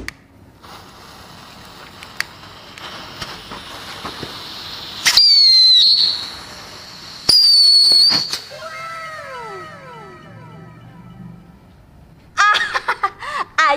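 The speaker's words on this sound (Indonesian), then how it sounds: "kamu borong petasan mercon banyak banget" Sharp firecracker bangs crack out amid whistling rockets and crackling bursts, then a rapid string of loud pops near the end.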